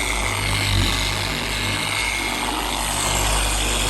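A car polisher buffs black paint at its highest speed setting, a steady, close, loud whirring drone with constant grinding texture and no breaks.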